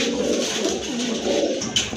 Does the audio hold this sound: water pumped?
no